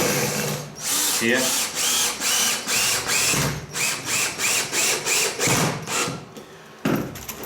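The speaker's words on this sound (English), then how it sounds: "So we'll put the second screw in" A cordless power drill drives long screws into timber for a workbench, whirring in a steady series of short pulsing bursts, close and loud, with a brief spoken word near the start.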